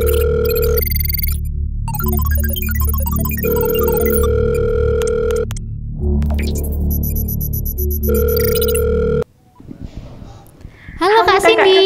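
Telephone call being placed: steady dial tone, a burst of dialing tones, then repeated ringback tones, loud and close, ending in a click and pickup.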